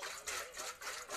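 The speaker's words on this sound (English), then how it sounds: "Can you hear the water?" Water sloshing inside a metal bowl, soft hissy swishes repeating in a quick rhythm about three times a second, close and quiet with no talk.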